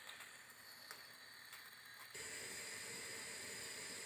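Water coming to a boil in a pot on a stove gives a steady faint hiss that suddenly grows louder and denser partway through, with no talk.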